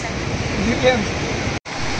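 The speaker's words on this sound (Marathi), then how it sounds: "हे बघा, हे इथूनच कुंभे धबधबा पडतो." Kumbhe waterfall pouring down from its cliff, a steady broadband rush of falling water heard close and loud, unbroken except for a momentary dropout near the end.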